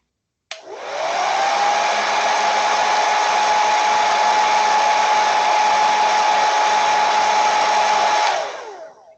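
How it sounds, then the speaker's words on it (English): A hair dryer switches on abruptly and blows at a steady, loud whine with an even airy roar for about eight seconds before it winds down, with no talk. "It was a hair dryer, not a blender."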